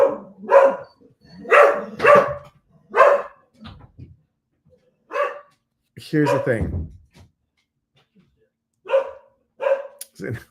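A dog barks in short bursts, several loud barks spaced through the clip, with a person speaking briefly between them.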